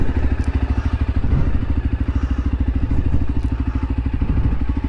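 A Voge 300 Rally motorcycle fitted with a Powerflow foam air filter idles close by, its single engine thumping in a fast, even rhythm with mechanical clatter and no talk.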